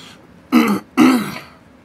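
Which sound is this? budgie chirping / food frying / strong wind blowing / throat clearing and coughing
throat clearing and coughing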